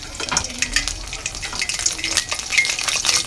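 Whole cardamom, cloves and bay leaves hit hot oil in a kadai for village-style beef curry, giving a steady close sizzle with scattered crackles and pops.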